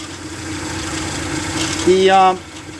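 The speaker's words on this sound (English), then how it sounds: "Now, this silly thing is idling" A Dodge truck engine idles with a steady low hum, and a brief louder burst with rising tones joins near the end. The hot-air door in its air cleaner is known to rattle.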